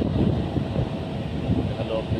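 Outdoor wind on a scorching 49-degree day buffets the microphone as a steady, close, low rumbling roar with small gusty swells throughout.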